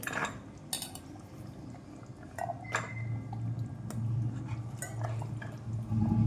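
Soaked, washed chickpeas for chole masala curry tumble into a cooking pan, giving scattered wet clicks and knocks against the metal over a low, steady background hum.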